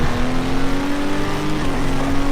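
A prototype race car engine roars in Project Cars 2 at Daytona, a loud, steady, close-up drone that holds without a break.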